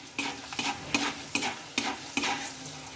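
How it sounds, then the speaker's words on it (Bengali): Chana dal fries in oil for homemade chanachur, with a constant light sizzle broken by six or seven regular stirring scrapes about half a second apart, close and clear. "একইভাবে ছোলার ডালগুলোকেও আমি ভেজে নেব।"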